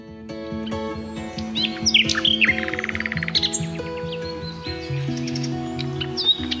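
Flycatcher being held in the hand for ringing, giving sharp chirps and a quick run of calls, close and fairly loud over a steady low musical background.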